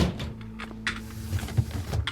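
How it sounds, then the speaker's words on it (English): A door shuts in the survival video game Cataclysm Dark Days Ahead, a short muffled clunk partway through that sits over a steady low hum of background game ambience. "Close the door."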